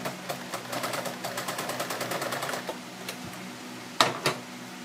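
Sewing machine stitching through denim while an old pair of jeans is made into an apron, a close run of rapid, rhythmic needle clatter that stops, followed by a couple of sharp mechanical clunks.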